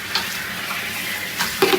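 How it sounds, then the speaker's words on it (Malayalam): Sliced onion sizzling and frying in a pan as it is stirred, with a steady crackle throughout and a couple of scraping stirs near the end, close and clear with no talking. "അതേപോലെ ഇങ്ങനെ ഇളക്കി കൂട്ടണം ഉള്ളി."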